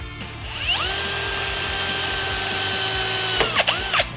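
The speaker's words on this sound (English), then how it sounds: "I'm going to drill it right through and find some long nuts and bolts" A power drill bores straight through a powder-coated part for a Can-Am Renegade 1000 XXC, motor spinning up and holding a steady loud whine, then briefly stopping and restarting near the end.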